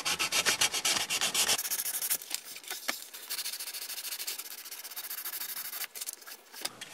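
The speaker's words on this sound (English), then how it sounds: "Now I'm just going to use my finger to sand this down just a little, because what I want to do is just follow the surface contour now." Fingertip sanding of painted ABS plastic on a Tyco Baja Bandit RC car body, a dense rapid scrubbing burst that gives way to steadier, softer rubbing strokes close up, with no voices.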